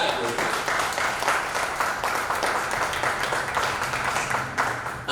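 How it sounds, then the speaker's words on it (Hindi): A crowd applauds at a Hindi kavi sammelan, a poetry gathering with a large audience, in steady, dense clapping that holds at the same level for the whole stretch. "इसमें सब लोग ताली बजा करके उसको बधाई देते हैं"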